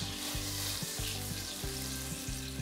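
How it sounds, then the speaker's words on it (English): Butter and olive oil sizzle steadily in a hot pan, a dense crackling hiss heard close up and continuous, with faint low tonal hum from the kitchen beneath. "Now we're hot. Sizzling."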